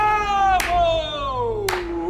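A man gives two sharp, separate hand claps about a second apart, heard under a voice that talks throughout.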